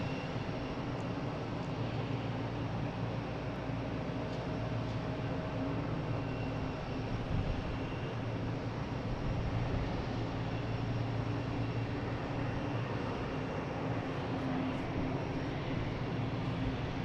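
A JetBlue airliner arriving from Reagan airport at Boston Logan makes a steady, distant broadband roar with a low hum, continuous and moderately faint throughout.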